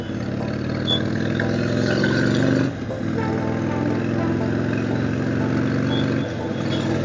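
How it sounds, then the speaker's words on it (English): A motorbike rides along a busy highway among lots of cars and trucks during a monsoon ride, with a loud, steady engine drone and road rumble throughout and a brief dip midway. "there's lots and lots of cars, lots and lots of trucks"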